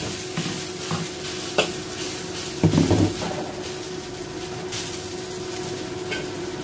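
Beef frying in a wok with a little oil, a steady close sizzle with stirring and a few louder scrapes and clatters of the utensil against the pan around the middle, no talk.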